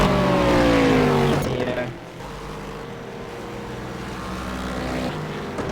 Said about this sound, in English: so we're watching one of the Corvettes currently go around the track